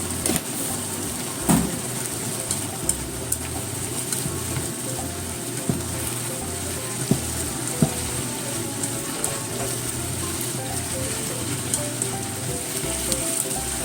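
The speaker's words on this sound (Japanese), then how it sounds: "これをね、炒めていきますね。" Daikon and carrot kinpira stir-frying in a pan, a steady close sizzle and crackle with occasional scrapes of stirring, running on without talk.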